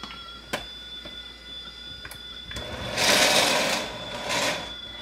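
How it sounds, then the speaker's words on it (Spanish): Blender whirring as it purees chile sauce for pozole, starting after a few faint clicks and rising into a loud, steady buzzing whir that swells twice before easing off. "Vamos a licuar bien."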